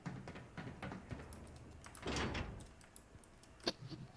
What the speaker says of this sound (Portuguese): Você que abriu porta?